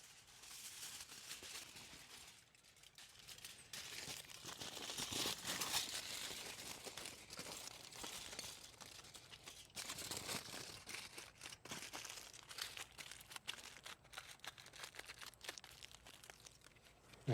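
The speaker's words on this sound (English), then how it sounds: "I'm just going to wrap it in tin foil." Tin foil crinkles and crumples steadily as it is wrapped around an air layer on a fig tree, a close, continuous rustle with sharper crunches in the middle and no talking.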